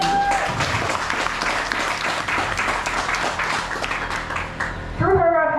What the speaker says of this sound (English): I just want to give her one more round of applause